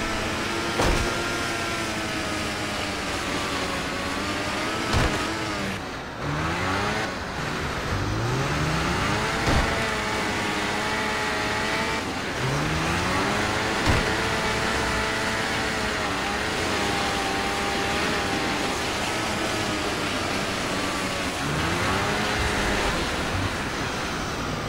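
Vehicle engine in the Far Cry 4 video game, a continuous loud drone that rises and falls in pitch as the car revs and shifts, with a game soundtrack underneath.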